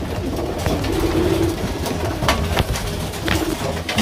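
Pigeons cooing in their coops, several soft throaty coos repeating close by over a constant background hum, with occasional sharp rustles or knocks.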